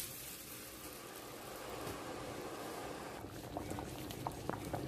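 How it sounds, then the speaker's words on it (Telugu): A pot of water with rice and moong dal bubbles at a steady rolling boil, a faint continuous hiss and patter close by with no talk. "సో నా వాటర్ బాయిల్ అయిపోయాయి. ఇప్పుడు దీంట్లో నేను రైస్ వేసేస్తున్నాను."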